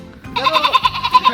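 A person imitates a goat's bleat with a wavering, pulsing nasal cry that follows a short rise and holds for about a second, fairly close and clear, with no other talk over it.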